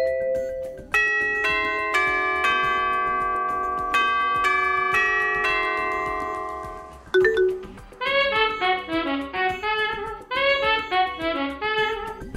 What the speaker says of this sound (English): The doorbell comes equipped with 4 pre-installed 80 decibel tunes to alert you.